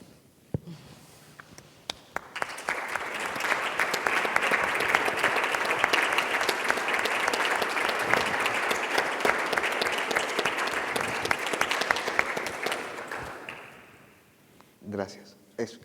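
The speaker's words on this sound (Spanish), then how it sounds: "Es un poco raro escuchar aplausos después de haber dicho lo que dije" An audience claps after a Spanish-language poetry reading. The applause starts sparse, swells into full sustained clapping for about ten seconds, then fades out, followed by a brief voice.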